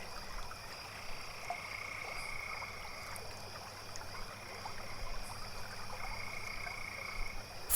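Frogs croak steadily in a forest, a dense chorus of calls over a constant high insect-like drone and a faint trickle of flowing water, with no voices present.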